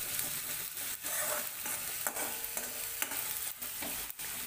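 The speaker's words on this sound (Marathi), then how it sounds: "आणि आता हे छान परतून घ्यायचं आहे आपल्याला." Whole masoor lentils are sautéed in a pan for a dhaba-style dish, with close, repeated scraping stir strokes over a soft continuous sizzle and no voices.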